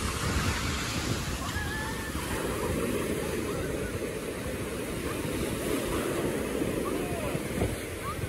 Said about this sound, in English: I see some waves.